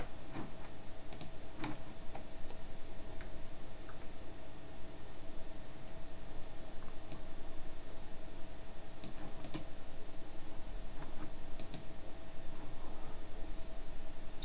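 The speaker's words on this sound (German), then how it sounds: "So, klickst hier nochmal drauf." Faint, sparse clicks of a computer mouse in a web browser, a few single and double clicks spread out over a quiet, steady background hiss.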